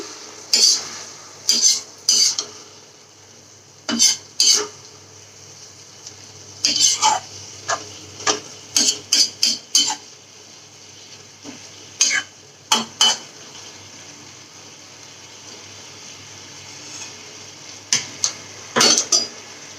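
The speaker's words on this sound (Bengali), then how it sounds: "এবার এটা ভালো করে মিশিয়ে দিচ্ছি" Pui greens with mustard seed and coconut being stirred in a pan: sharp, irregular scrapes and clinks of a spatula against metal in short bursts over a faint, quiet background.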